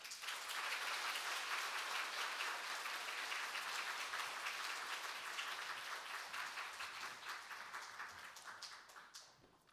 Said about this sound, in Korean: 우리 모든 성도님들 큰 박수로 화답해 주시기 바랍니다